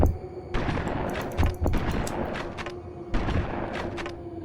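Gunfire in the Space Engineers video game, bursts of rapid close shots in uneven clusters over a low steady hum, with no talk.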